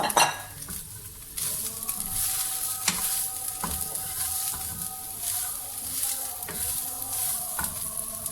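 Shredded cabbage for chicken vegetable spring rolls sizzles steadily in a hot pan, with a utensil scraping and clinking against the metal at irregular intervals, close and continuous.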